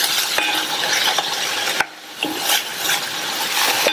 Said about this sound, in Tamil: இந்த ஸ்ப்ரிங் ஆனியனும் ஒரு 2 நிமிஷம் வதங்கட்டும்